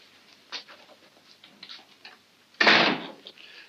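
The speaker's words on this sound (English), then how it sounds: "Go outside and close the door." A door shuts with a single solid thud after a stretch of faint shuffling and small clicks, heard fairly close in an otherwise quiet room.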